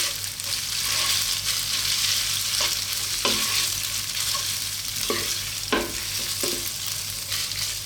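Chopped flat leaf parsley being mixed into spaghetti aglio e olio in a pan, a constant oily sizzle broken by several soft scraping and clinking strokes of a utensil, close and fairly loud.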